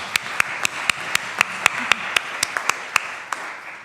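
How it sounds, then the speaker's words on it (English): Audience applause for panel speakers at the close of a discussion, heard as a low bed of scattered clapping with one nearby pair of hands striking sharp, evenly paced claps. "Let's applaud our speakers."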